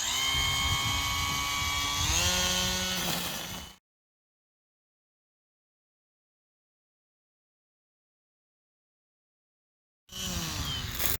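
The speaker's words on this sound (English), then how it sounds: "So I trimmed all of that high grass that was on the side of the ranch fence there and had no trouble." Makita 18V string trimmer cutting high grass along a ranch fence, a high whining motor with shifting pitch that changes as it bites, then cuts out to silence before resuming briefly at the end.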